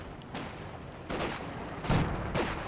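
Gunfire and shell blasts from the Company of Heroes 2 strategy game, a US and British versus OKW and Wehrmacht match, arrive as four separate booming bursts that stand out above a continuous battle rumble.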